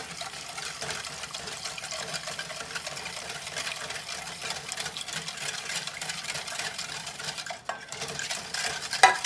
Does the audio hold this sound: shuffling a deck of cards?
no